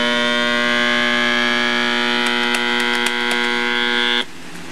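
A Juliette EL-1984 clock radio alarm sounding: a loud, steady electronic tone rich in harmonics, with a few clicks near the end before it cuts off abruptly, leaving faint residual hum.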